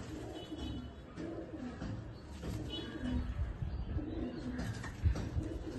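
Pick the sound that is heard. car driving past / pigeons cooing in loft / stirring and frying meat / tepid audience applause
pigeons cooing in loft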